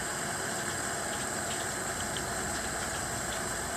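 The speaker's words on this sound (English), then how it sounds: "I hear water leaking somewhere." Water leaking and pouring into the hull of a Carolina Skiff DLV boat as it is filled from a hose, heard as a steady, even wash of running water with no pauses.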